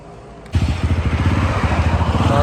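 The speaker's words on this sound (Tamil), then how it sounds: "பைக் இப்போ ஸ்டார்ட் பண்ண போகிறோம்." A motorcycle engine fires up abruptly after a brief quiet moment, then settles into a steady, throbbing idle close by.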